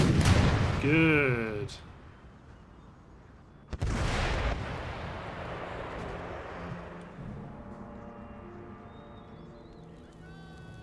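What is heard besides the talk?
gunfire and artillery in Empire Total War video game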